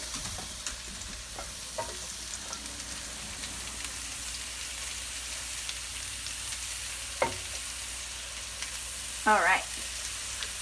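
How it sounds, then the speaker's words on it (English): Meatballs sizzling in a frying pan, a soft steady crackle and hiss with a few brief clinks, plus a short spoken word near the end. "It's good when you put them in the pan and they immediately sizzle."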